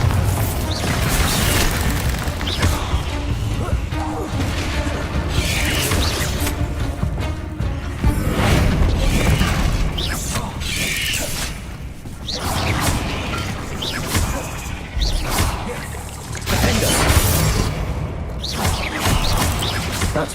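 The Bombarda spell exploding in the video game Hogwarts Legacy: heavy booms and crashing blasts recur across a loud, dense stretch of combat, with whooshes between them and no voices heard.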